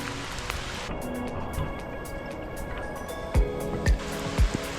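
Heavy rain falls steadily on a hike near Garmisch, Germany, giving a dense, even hiss with a few louder thumps of drops near the end and no talking.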